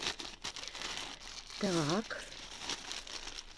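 Large plastic parcel bag of clothing being unpacked, giving a continuous crinkling and crumpling rustle close by, with one brief sharper tearing burst midway and a person speaking over it.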